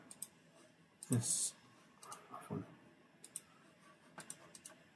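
Mouse clicks from right-clicking in a file manager to create a new file, a few sharp near clicks spread across the stretch with a louder burst early and faint background noise.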